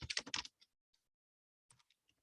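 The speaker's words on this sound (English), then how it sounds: "Let me type in the card number again." A card number typed on a computer keyboard, with a quick close burst of keystrokes followed by a few scattered single taps after a short pause.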